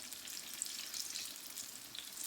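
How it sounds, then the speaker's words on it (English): Apple fritters sizzle in hot oil in a pan, a soft, steady crackling hiss with tiny pops scattered throughout, heard up close and quiet, with no voices. "I'm going to heat up a little to make sure they fry nice and brown"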